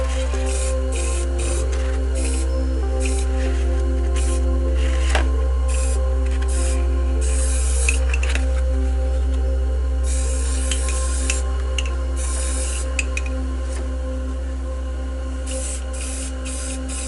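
A spray paint can hissing in repeated short bursts while painting clouds in a lighthouse-at-dusk spray art piece, set over a loud steady low hum and nearby clatter.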